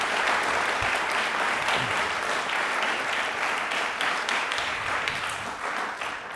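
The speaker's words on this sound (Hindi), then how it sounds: "सभी शिक्षकों के लिए तालियां एक बार जोरदार बनती है" A studio audience on a general knowledge quiz show claps loudly and steadily for the teachers, a thick continuous burst of applause that holds for several seconds without talk.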